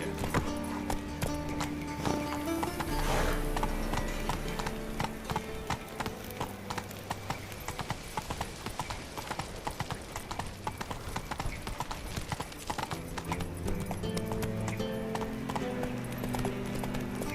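In The Witcher 3, the horse Roach gallops with rapid, steady clip-clop hoofbeats, continuous and fairly close, layered over game music and ambient sound.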